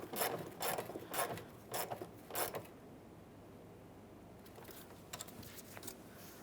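Clamp being tightened on a 2002-2009 Chevrolet Trailblazer fuel pump module, a quick series of close ratcheting creaks in short bursts, then near quiet with a few faint clicks.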